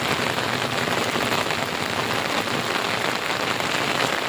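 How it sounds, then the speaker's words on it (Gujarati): Heavy monsoon downpour pounding steadily on surfaces in a village, a dense, unbroken roar of rain that stays loud and even throughout, with no voices. "નકરું પાણી પાણી પડે છે"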